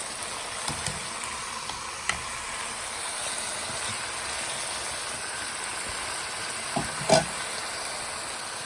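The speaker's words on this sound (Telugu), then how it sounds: "నేను ఈ స్ట్రెయిన్ చేసి పెట్టుకున్న పాలకూర కూడా దీనిలో వేసుకుంటాను" Strained spinach goes into cooked tomato in a pan and sizzles with an even, continuous frying hiss, broken by a few light clicks and a brief clatter of a utensil.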